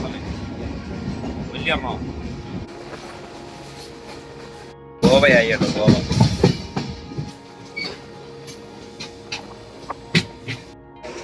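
A passenger train rolls into a big tunnel on the line before Goa: a steady carriage rumble and clatter that jumps louder and denser halfway through, with someone talking over it.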